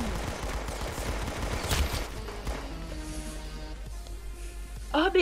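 A Tommy gun fires in rapid automatic bursts in the video game Arsenal, mixed with game effects and tones, moderately loud, with a voice briefly heard at the end.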